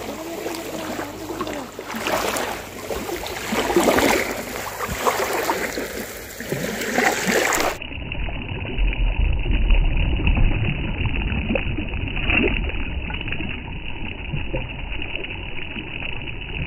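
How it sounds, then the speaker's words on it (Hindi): Water from Pangong Lake moves steadily and gently, a soft continuous washing and splashing nearby with no voices, the texture shifting midway but never stopping. "ये पेंगोंग लेक के पानी की आवाज़ सुनो जी"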